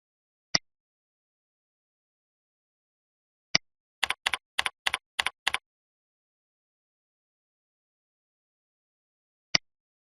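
Keys tapped on a computer keyboard while client data is entered: a single isolated click, another after a pause, a quick burst of about eight keystrokes, then one final tap, all crisp and close in a silent room.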